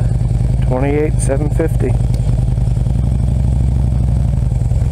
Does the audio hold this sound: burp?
no